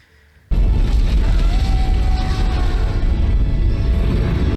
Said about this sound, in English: And then the ship crashes down, and then everything blows up.